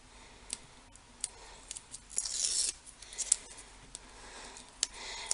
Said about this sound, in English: I'm going to peel off the backer